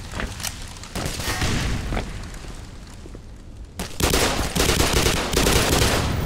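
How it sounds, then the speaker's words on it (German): Gunfire and a grenade blast in Black Mesa: a run of sharp shots, a brief lull, then a loud explosive burst followed by more heavy, booming fire nearby. "Oh shit, Granate."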